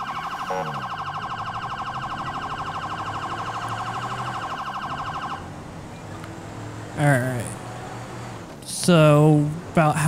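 Police siren of a Crown Vic patrol car in GTA 5 LSPDFR, a loud rapid electronic warble that cuts to a rumbling engine, then short whooping siren chirps, with a voice talking over parts.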